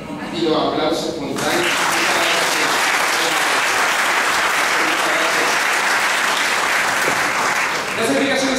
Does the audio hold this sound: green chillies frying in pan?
no